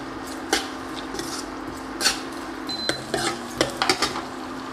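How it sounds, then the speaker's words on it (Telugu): Chopped onions with rock salt frying in a pan are stirred with a metal spoon, sharp clinks and scrapes against the pan recurring every second or so over a low continuous sizzle, close and clear. "ఇప్పుడు వీటిని బాగా వేగనివ్వాలి"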